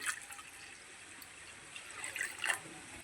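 Water splashes and trickles into a pot over eggs, a soft steady pour with a few brighter splashes near the end.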